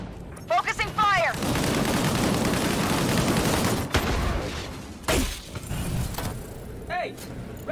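Rapid gunfire from the game Disintegration crackles in loud sustained bursts, with brief warbling energy-weapon whines at the start and sharp shots punctuating the end, a voice briefly heard among them.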